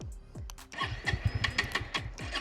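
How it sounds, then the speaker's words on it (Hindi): A 2026 Bajaj Pulsar N160 motorcycle engine, with its fuel drained, is cranked and sputters in a rapid series of uneven bursts, close by, as if trying to catch but failing to start. "बाइक को ट्राई करते हैं स्टार्ट हो रही है कि नहीं"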